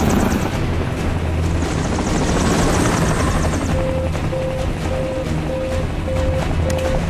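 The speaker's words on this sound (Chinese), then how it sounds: "气流过大，飞机状态保持困难" A rescue helicopter flies through strong, turbulent airflow over a mudslide-threatened rescue site, its loud continuous rotor and engine roar close up, joined midway by a repeating short electronic warning beep.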